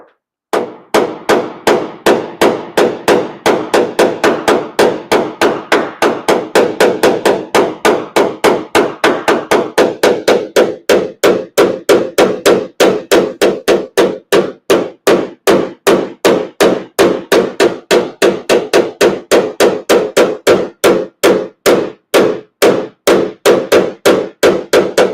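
A 4-ounce Glexo blending hammer taps a dented Ram 1500 truck bedside in a fast, even stream of sharp metallic knocks, loud and close, with no talk.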